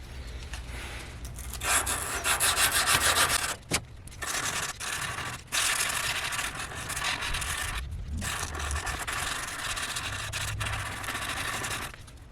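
A knife handle is sanded by hand with 220 grit sandpaper, giving long rasping back-and-forth strokes up close, broken by a few short pauses.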